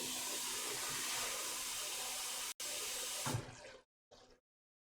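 Water is poured into a pot while cooking an Italian dish, used in place of stock. It sounds as a steady rushing pour that cuts off abruptly, followed by a short final splash, with no talking.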